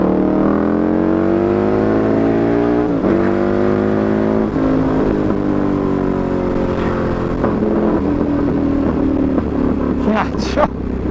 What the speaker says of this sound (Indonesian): Menurut gue ini motor suaranya gak jauh beda dengan MotoGP deh.